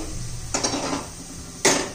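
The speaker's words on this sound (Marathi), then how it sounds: "दुसऱ्या शेगडीवर ठेवते." A pan being set down on a second stove burner in a home kitchen, giving two short metallic clanks with a quiet, steady background hiss between them.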